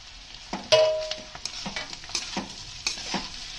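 Chopped vegetables with three cut capsicums stir-fried over a high flame for a paneer roll, giving a soft sizzle broken by a sharp metallic clang and a string of scraping, tossing strokes from a spoon; no talking.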